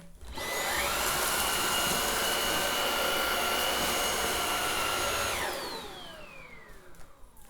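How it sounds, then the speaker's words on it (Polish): A Xiaomi Dreame V10 cordless stick vacuum cleaner running on its first mode starts up into a steady high whine and airy rush, holds for several seconds, then winds down with a falling tone. "sprawdźmy, jak głośny jest ten odkurzacz na poszczególnych trybach"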